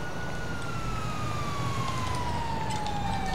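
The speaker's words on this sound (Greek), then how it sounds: "Και τώρα απλά θα περιμένω εδώ για να έρθει το πυροσβεστικό." A fire truck siren in GTA 5 wails steadily, its tone gliding slowly downward as the vehicle arrives, over a constant bed of traffic and engine rumble.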